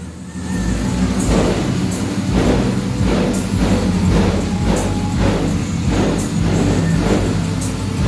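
A four-door Cutlass with a swapped 5.3 V8 runs after a cold start, its loud close engine drone pulsing with repeated revs at a regular rhythm for several seconds.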